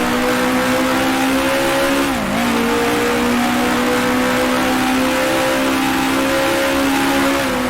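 Coventry Climax engine of a 1966 Formula One car in Grand Prix Legends at the Syracuse Grand Prix, a steady loud high-revving drone with a brief dip in pitch midway before holding its note.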